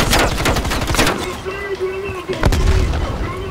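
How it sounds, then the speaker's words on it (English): A frag grenade thrown and exploding in the Call of Duty Black Ops Cold War campaign, heard among rapid bursts of gunfire, then a heavy boom that lands loud and close, with a voice talking over the action. "Another frag going out."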